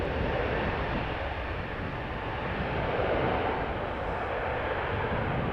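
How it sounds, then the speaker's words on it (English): A Boeing 737 MAX 8 jet, four years old and in new livery, roars on departure at Amsterdam Schiphol Airport, a broad, steady engine rumble that swells slightly and holds loud throughout. "the 737 MAX 8 does make a nice sound"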